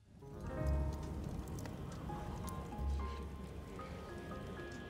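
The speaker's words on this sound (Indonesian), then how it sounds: "hujan turun sangat deras" Heavy rain pouring down at night, a steady dense hiss of drops throughout, with a faint tonal layer of music beneath and a couple of low thuds.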